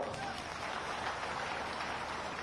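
A crowd at a political rally gives a dense, steady burst of clapping applause to welcome a politician, loud and continuous with murmured voices underneath.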